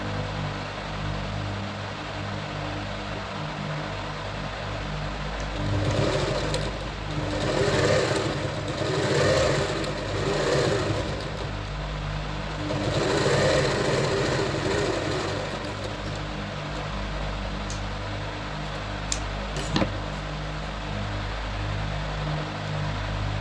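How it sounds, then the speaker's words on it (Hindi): Sewing machine stitching a katori blouse: a steady mechanical whir runs through, rising in several bursts of faster stitching, with a brief sharp click near the end. "यहाँ पे ऊपर सिलाई चला के फिर हमें अंदर की तरफ फोल्ड करना है।"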